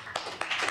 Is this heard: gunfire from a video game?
no